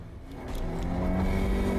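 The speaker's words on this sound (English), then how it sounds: "You heard that engine rev." A car engine revving hard during a high-speed chase, a rising, strained engine note that grows louder over the short burst, with no talking.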